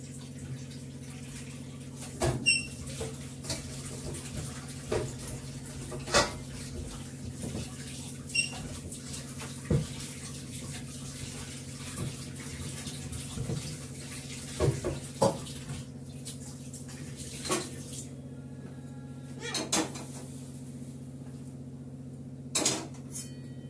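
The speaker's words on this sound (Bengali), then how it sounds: "কড়াটা একটু ধুয়ে নেব, মাছ ভাজবো তো।" A kadai being rinsed under running water, with a steady tap flow and irregular clanks and scrapes of the metal pan recurring every few seconds, close and moderately loud, with no talking.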